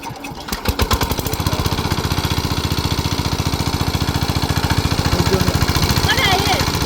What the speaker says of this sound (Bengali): আমাদের মেশিন স্টার্ট করা হচ্ছে